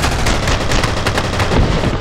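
Submachine gun fire in the horror shooter F.E.A.R., a loud, dense stream of rapid automatic shots that runs without a break for about two seconds.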